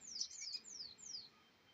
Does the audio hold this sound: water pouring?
no